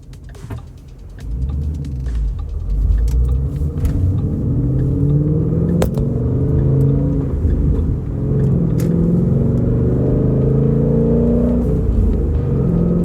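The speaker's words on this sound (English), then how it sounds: "The exhaust note is incredible with the Borla exhaust on this thing." A rebuilt 2013 Ford Mustang GT V8 with a Borla exhaust drives on, its deep exhaust rumble building as it accelerates, then holding a loud, steady low drone with shifting engine tones throughout.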